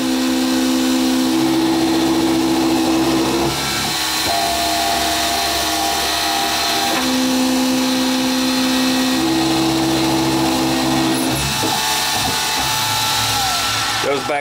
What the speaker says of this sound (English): Drilling for this particular operation.